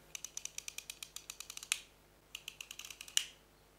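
A manual camera lens with a clicky aperture ring being turned: a quick run of small, crisp detents heard up close and quiet, a brief pause, then a second shorter run of clicks.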